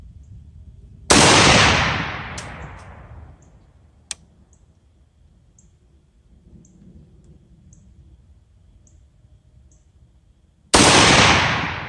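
A Romanian PSL rifle fires PPU brass-cased rounds, with two sharp, loud shots spaced about ten seconds apart, each cracking hard and leaving a decaying outdoor echo, with a faint click in between.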